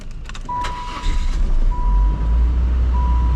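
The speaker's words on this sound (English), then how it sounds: "Let's crank it up and see how it sounds though." A car engine turns over and settles into a low, steady idle, with a chime beeping intermittently over the rumble.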